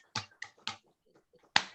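A few scattered claps from webinar participants thanking the panelists, four sharp isolated hand claps spaced unevenly with small quiet gaps, fairly faint and heard over an otherwise near-silent remote call.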